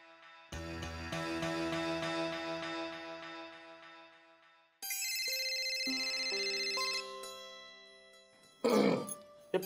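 A phone's ringback melody during an outgoing call, a sustained electronic tune in two tonal phrases, fairly clear, followed by a brief noisy burst at the end.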